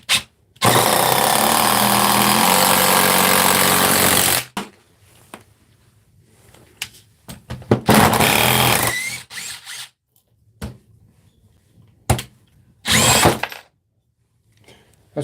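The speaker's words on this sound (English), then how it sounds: "This is a 12 volt impact wrench." A cheap 12 volt impact wrench runs in loud, close bursts: one long whirring hammering run, then several shorter bursts separated by quiet gaps.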